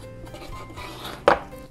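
A knife cuts horizontally through a moist carrot sponge cake base, giving a soft scraping, sawing texture that ends in a short louder knock as the blade meets the board, close and alone.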